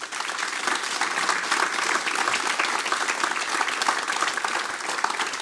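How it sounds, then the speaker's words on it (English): Sustained applause from an audience after a talk at an evening concert event with a band, steady and dense clapping throughout with no voices. "A round of applause for George."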